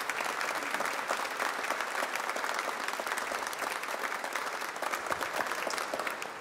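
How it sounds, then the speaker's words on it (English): A church congregation gives a round of applause for students at a worship service, dense, even clapping from many hands sustained at moderate distance without a break. "So give them another round of applause"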